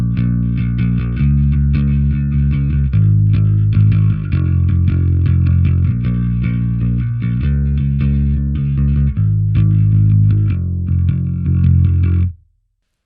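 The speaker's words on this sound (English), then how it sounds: "Without anything from the pedal board, just going into the Aguilar, sounds like this." Electric bass plugged straight into an Aguilar amp with no pedals, playing a steady, loud riff of repeating low notes for about twelve seconds before stopping abruptly, with no voices.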